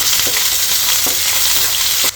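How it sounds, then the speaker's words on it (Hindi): Chopped onion hitting hot oil alongside chopped garlic, producing a loud, continuous close-up sizzle punctuated by several sharp clicks of a spoon stirring against the pan. "तो अब ये प्याज डाल देंगे"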